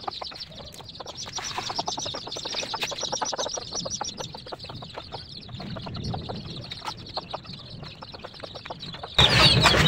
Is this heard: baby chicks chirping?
yes